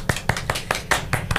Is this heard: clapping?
yes